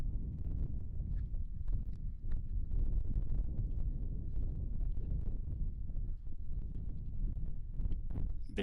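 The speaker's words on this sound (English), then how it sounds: "a little windy up here." Wind buffets the microphone at a high overlook in Colorado National Monument, a loud continuous low rumble with gusty thumps throughout and no other sounds.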